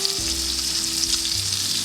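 Beef tenderloin Chateaubriand sizzling on a grill, a constant close hiss and crackle of searing meat with a low steady hum underneath, no voices.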